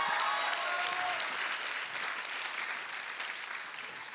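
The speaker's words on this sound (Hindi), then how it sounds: "ऑफ कोर्स, तालियां हो जाए, तालियां" An audience applauds on the stage of a kids' TV singing show, a dense, steady wash of clapping that starts loud and fades slightly over a few seconds, with no talk over it.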